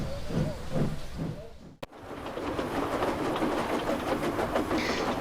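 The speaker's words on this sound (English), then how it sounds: "the train began to gather speed" A steam train chuffs in a few rhythmic puffs, falls briefly silent, then settles into a steady rushing, clattering roll with hiss, moderately loud and with no voices.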